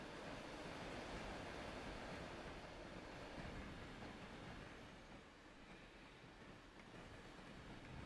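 A train in the video game Transport Fever 2 rumbles steadily along the track, a continuous broad roar with no voices, easing slightly toward the end.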